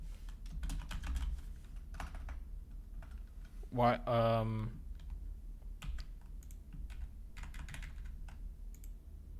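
Rapid clicking of a computer keyboard, light taps in bursts close up, briefly broken by a spoken word in the middle before the typing resumes.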